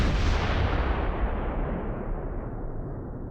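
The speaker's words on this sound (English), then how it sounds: "The tank brews up." A tank is destroyed and brews up in the WWII Eastern Front strategy game Close Combat 3, giving a deep explosive boom that rolls into a fading, rumbling roar, dimming steadily over about three seconds.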